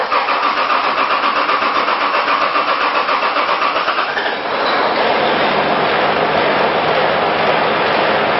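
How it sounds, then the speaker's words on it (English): A Buck six-cylinder diesel engine cranks steadily for about four seconds, then catches and settles into a loud, continuous running roar, heard alone and close up. "We're going to start this engine without bleeding the lines."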